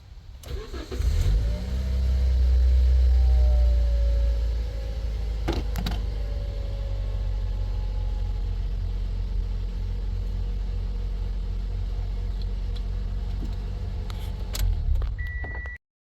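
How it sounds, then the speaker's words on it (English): A Toyota with an MMT semi-automatic gearbox cranks and starts its engine. It surges to a loud, high idle, then settles into a steady, close idle that runs until an abrupt cutoff near the end. "I'm start the engine."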